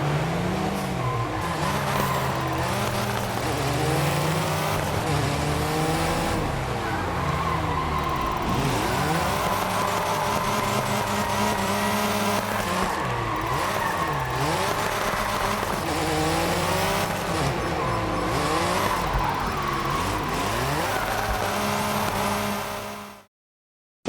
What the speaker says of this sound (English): Check out this clip where we take an M3 and drift it around the famous Fairmont hairpin.